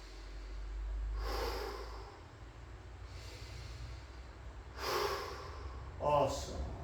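Deep breaths during a garage workout stretch, drawn in and pushed out in slow, audible bursts that come close and fairly loud, with a low steady hum underneath.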